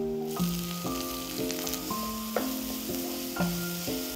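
Chopped onion and minced garlic sizzling in olive oil, a steady close hiss of frying running beneath sustained musical tones, with no talking.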